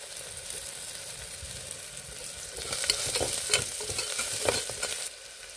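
Spices frying in a pan for bottle gourd dal are stirred steadily, a constant hiss of sizzling with scraping strokes that grow louder midway before settling back, no voices.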